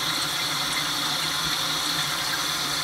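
Running tap water flows steadily while a makeup sponge is rinsed at a sink, a constant close hiss without pauses or speech.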